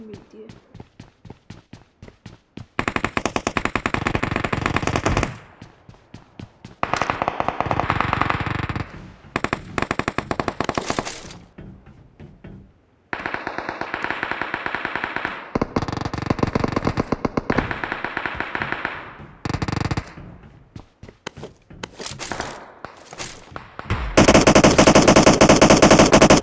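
Gunfire from VSS and Kar-98 rifles in PUBG, with rapid dense bursts of shots broken by short gaps and louder, harsher volleys near the end, close and loud, with talking between some bursts.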